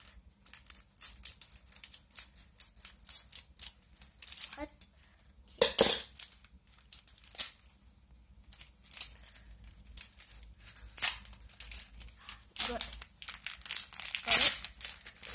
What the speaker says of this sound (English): We don't want to cut the card.